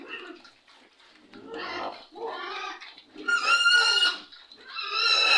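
A boar on a farm, grown large after castration, gives repeated loud grunts and squealing snorts close by in uneven bursts, the last ones harsh and high.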